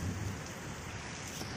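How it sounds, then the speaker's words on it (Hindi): Steady rain falls continuously with a dense, even hiss and a low rumbling undertone, heard outdoors near a train without any voices. "कत वर्षा"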